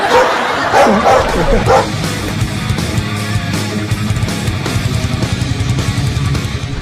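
A few sharp dog barks and yips in the first couple of seconds, then a steady murmur of background noise with the barking fading out, at a Marathi stand-up comedy show.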